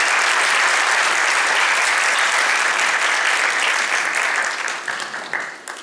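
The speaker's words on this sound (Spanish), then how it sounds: "Quiero que reciban con fuerte aplauso y cariño" Strong audience applause for a speaker, loud, dense and sustained clapping from a large crowd that thins and fades toward the end.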